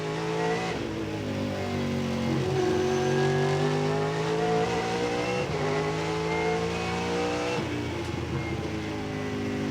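V8 Supercars racing at Winton Raceway in 2002, with loud engines roaring and revving as they accelerate and shift through corners, steady and close, with no talk.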